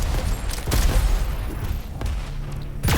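Sharp bursts of weapon fire in an arena shooter match, including a railgun shot, come in several loud hits over a dense layer of in-game noise.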